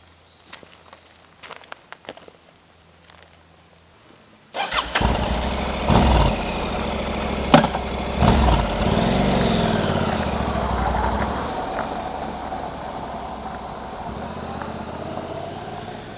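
A motorcycle engine cranks and fires up after quiet outdoor ambience, then settles into a steady, close, loud idle with a few revs early on.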